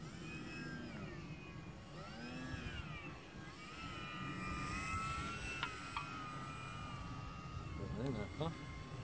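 A Twisted Hobbys MSX-C RC plane flies at night in wind, its small electric motor whining steadily and wavering in pitch as it struggles, with a voice talking over it.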